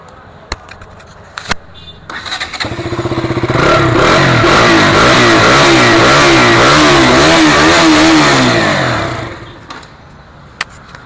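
A KTM Duke BS4 motorcycle engine starts after a few clicks, then revs loudly and repeatedly for several seconds before settling back and cutting off.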